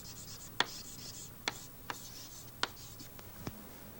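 Marker or chalk strokes on a board during a quantum gravity physics lecture, several short sharp taps and scratches spaced about a second apart over a faint room hum, with no talking.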